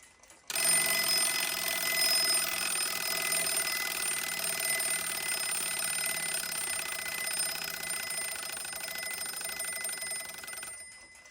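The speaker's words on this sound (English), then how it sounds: "And the alarm is set to slightly before 3 o'clock." An 1891 Waterbury repeater mechanical alarm clock rings its bell in a loud, continuous, rapid clatter for about ten seconds, then stops abruptly.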